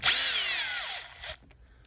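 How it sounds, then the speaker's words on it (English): A 2mm Milwaukee bit in a power drill spins up and bores a hole in a Traxxas X-Maxx Bigfoot RC truck, a loud high whine lasting about a second before cutting off, with a small clatter afterward. "we're going to put the cage back in, but not before we finish drilling the holes"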